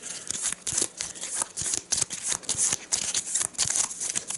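Arkham Horror 3rd edition board game cards are shuffled close by with rapid riffling and flicking bursts, repeated several times in quick succession.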